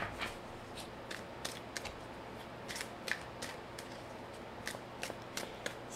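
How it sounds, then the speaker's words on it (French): Tarot cards shuffled and drawn by hand, a run of quiet, crisp riffling snaps and flicks in uneven bursts, close but faint against a quiet background. "je vais y aller avec mes tarots. Je vais aller chercher 4 cartes."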